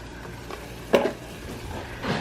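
Seasoned chicken Alfredo ingredients being stirred with a utensil in a pan, a soft scraping swish with one louder clink and a faint sizzle underneath, close and fairly quiet.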